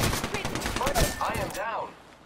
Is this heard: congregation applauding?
no